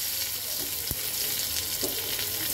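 Cumin and a bay leaf frying in oil produce a steady hiss, with one short sharp tap partway through and a faint scrape soon after, close and even.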